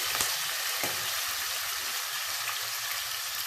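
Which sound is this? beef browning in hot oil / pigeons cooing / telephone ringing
beef browning in hot oil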